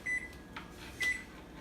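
Two short electronic beeps from a microwave oven keypad, evenly spaced about a second apart, clear and close in a quiet kitchen with faint rustling between them.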